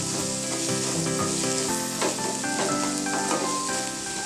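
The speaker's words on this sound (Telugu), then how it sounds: "ఆనియన్స్ త్వరగా మగ్గుతాయి సాల్ట్ వేయడం వల్ల" Chopped onions sauté with salt in a hot pan for a restaurant-style mint paneer pulao. A steady, close sizzle and crackle runs throughout, with no one talking.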